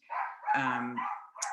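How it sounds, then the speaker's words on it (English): Dogs bark indoors in a short burst of a few close yaps and a whining bark, moderately loud. "sorry about my dogs"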